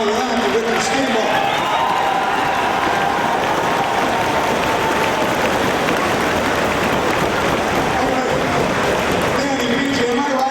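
A wrestling crowd claps for Ric Flair and Steamboat, dense sustained applause and crowd noise filling the arena throughout, with a voice talking over it.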